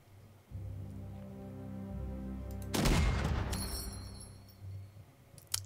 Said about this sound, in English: We could use suppressive fire here.